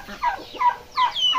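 Several short, bubbly bird calls repeat in quick bursts, a turkey gobbling nearby with faint fowl chatter around it.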